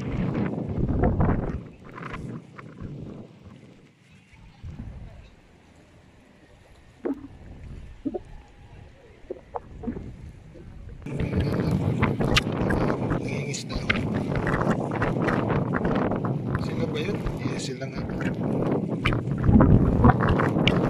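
Strong typhoon wind blows across a fishport, buffeting the microphone in rough gusts that ease for a few seconds and then surge louder, with voices faint underneath.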